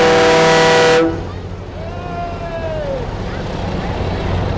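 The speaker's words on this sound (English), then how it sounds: "that horn is not part of the tractor" A loud, sustained horn blares nearby at a display of Ford farm tractors, then cuts off after about a second, leaving a low outdoor rumble with a faint passing tone.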